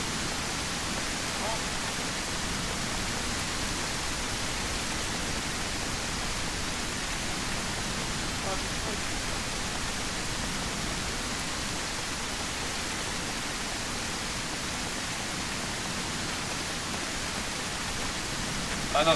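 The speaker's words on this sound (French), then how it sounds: "Ah non, c'est pas normal qu'il pleut." Rain falls in a dense, steady wash with no gaps or pauses, loud and even from start to finish, and no voices can be made out over it.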